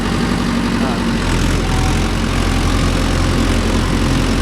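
Mahindra Yuvo Tech Plus 585 4WD tractor engine idling steadily in a cotton field, a constant low rumble close by with people talking over it.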